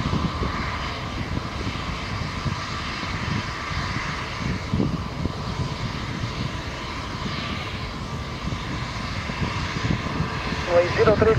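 A fixed-wing airliner lands at Lisbon airport on runway 03, its engine roar steady and fairly loud throughout, with a voice speaking over it.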